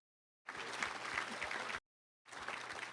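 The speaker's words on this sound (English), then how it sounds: "a round of applause for that." Applause from an audience at a touchdown club luncheon, two short bursts of clapping, the first about a second and a half long, then a pause and a second burst.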